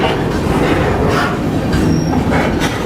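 A freight train rolls slowly with a steady, loud rumble of wheels on rail, heard from close by. A short metallic wheel squeal cuts through the rumble partway along.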